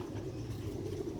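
A pair of black-faced pigeons gives soft, low, rolling coos, close by but faint, in a brief quiet moment.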